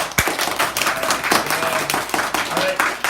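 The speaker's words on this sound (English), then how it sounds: "Okay, clap if you want me to eat the Carolina Reaper." A library audience claps loudly and steadily to vote for a presenter eating a Carolina Reaper pepper, dense applause filling the moment.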